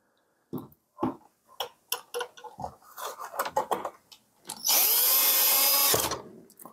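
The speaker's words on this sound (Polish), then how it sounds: "no zaraz wycelujemy jeszcze wkrętarą, podjedziemy" A cordless screwdriver runs in one steady, loud burst of about a second and a half near the end, driving a screw into a DeLonghi espresso machine under repair for a cracked heating element. It follows a run of scattered clicks, knocks and handling noises.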